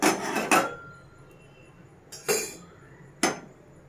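Metal dosa pan set down on a stovetop in a home kitchen, three separate clanks spaced over a few seconds, close and fairly loud with quiet pauses between.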